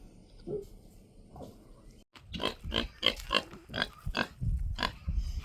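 Farm pigs grunt and snuffle close by in a quick run of short, loud, choppy bursts, after a few quieter snorts at the start.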